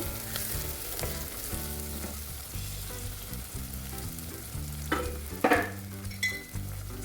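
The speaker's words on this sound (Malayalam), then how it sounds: "എന്നിട്ട് ഇതെല്ലാം നന്നായി ഒന്ന് വഴറ്റിയെടുക്കുന്നുണ്ട്." Onions, green chillies and curry leaves sauté in a hot pan, a continuous close sizzle with occasional stirring scrapes and a few sharper pops toward the end.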